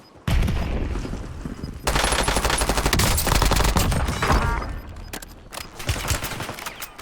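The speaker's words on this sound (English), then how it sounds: "So those were all bots that I was just shooting at." Gunfire in the video game Warzone as a player shoots at bots: loud, dense bursts of automatic fire separated by brief gaps, with no speech.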